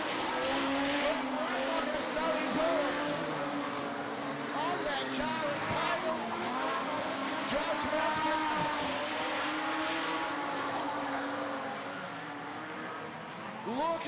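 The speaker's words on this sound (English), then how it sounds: "Raymond has no exhaust on that car" Modified production race cars lapping Gympie Speedway, one running without an exhaust, their engines droning and shifting in pitch at mid distance with occasional tire scrub, under a commentator's voice.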